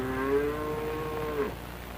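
A calf moos once in a long, drawn-out tonal call that bends downward at the end, fairly close and clear with no talking.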